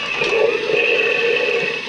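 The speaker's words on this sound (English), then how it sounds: "Like this one's a toilet bowl flush" A short toilet bowl flush sound effect plays from the speaker of a retired K'NEX Corkscrew Canyon water slide toy, a brief, loud rushing gurgle of water heard alone.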